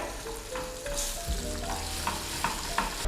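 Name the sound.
stirring butter into caramel in a pan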